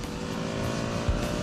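The engine of a KTM 125 sport motorcycle gives a steady, close, buzzing hum for a brief moment, with one low thump near the end.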